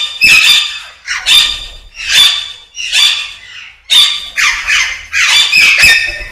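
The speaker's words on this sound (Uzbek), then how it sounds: "Bu yoqda ham Aleksandrskiy papugaylar" Young Alexandrine parakeets, this year's juveniles at a parrot breeding aviary, give about seven harsh, loud squawks in a steady series of close, rasping bursts with only brief gaps between them.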